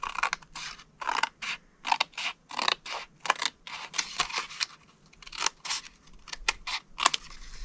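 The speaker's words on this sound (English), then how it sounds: "Cut it to the first score line, and then you're going to cut all of this off." Scissors snip through scored cardstock for a paper treat box, a close, steady series of short crisp cuts with brief pauses between strokes, heard alone.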